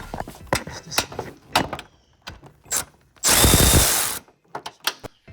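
Ratchet wrench working on an engine mount bolt of a 2008 Chrysler Town & Country, with several short bursts of clicking, then a loud continuous ratcheting run of about a second, followed by more scattered clicks and clanks.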